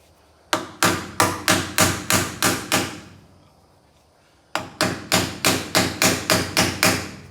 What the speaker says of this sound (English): I seat it the rest of the way with a hammer